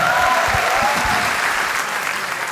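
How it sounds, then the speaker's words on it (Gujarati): A live audience at a comedy talk show gives loud, dense applause, a sustained roar of many hands that starts strong and eases slightly toward the end, with a voice briefly audible over it. "તાળીઓ થઈ જાય એમના માટે એક વખત જોરદાર"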